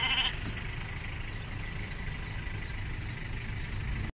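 Naimi sheep and lambs at a large livestock market in Buraydah make a brief bleat at the start, then steady low crowd and engine rumble fills the rest.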